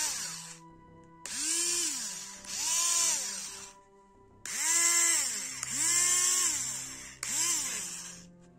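A vintage cordless drill-driver, converted from two NiCd cells to a Li-ion 18650 battery, runs in about five separate bursts. Its motor whines up and winds down each time, close and loud, with short pauses between.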